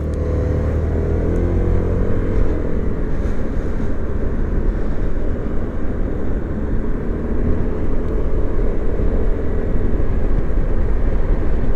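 A Keeway XDV 125 Evo Pro scooter's 125 cc engine drones steadily at full throttle while riding, a loud continuous hum mixed with rushing wind noise throughout, with no talking.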